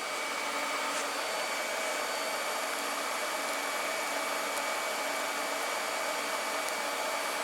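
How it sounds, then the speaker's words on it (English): TIG welding on cracks in the exhaust pipe of a Polaris Ultra runs as a continuous, even hiss with a faint steady hum, with no breaks and no voices. "We got a whole bunch of cracks over here in this pipe, so I'll weld those up now too."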